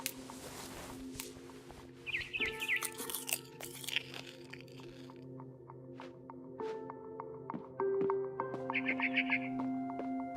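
Eating and chewing from the video game What Remains of Edith Finch: quiet, close crunching bites come in irregular bursts over a hushed background, with a few faint bird chirps.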